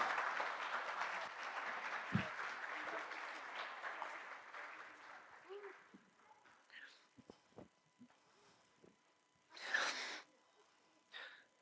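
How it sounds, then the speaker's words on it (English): Applause from a church congregation, broad and sustained for about five seconds before tapering off into scattered claps and room noise. "Let's give them a round of applause"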